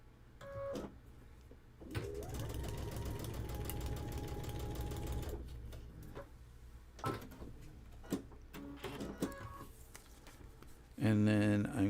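A sewing machine stitching fabric runs in a steady close whir for a few seconds, then stops. Short mechanical clicks and handling noises follow, with a voice speaking briefly near the end.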